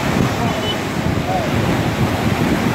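Ocean surf from a tsunami striking the Moroccan coast, a loud continuous churning roar of waves with heavy wind noise on the microphone, brief and unbroken.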